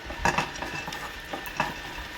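Cashew nuts fry in a little ghee while making upma, giving a soft sizzle with a few brief scraping stirs of a spoon against the pan, close and fairly quiet, with no talking.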